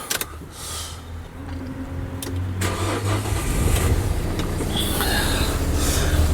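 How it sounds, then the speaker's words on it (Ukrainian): A 2019 Nissan NV300 van with a manual six-speed gearbox and a freezer compartment cranks and catches, settling into a steady mid-pitched idle up close that grows slightly louder, with no talk over it. "Зараз заведемо машинку."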